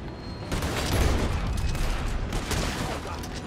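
Gunfire in the Western video game Red Dead Online, a dense burst of overlapping shots and rumbling blasts at mid distance, continuous for several seconds with no clear talk.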